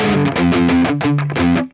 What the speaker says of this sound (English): I could turn my gain way down right now and those chords would still distort.